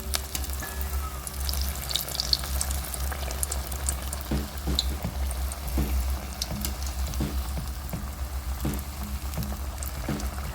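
Wheat flour appam batter fries in hot oil with a steady, close sizzle, while sharper intermittent clicks and splashes mark oil being ladled over the cakes.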